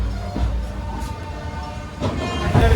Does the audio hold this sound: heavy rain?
no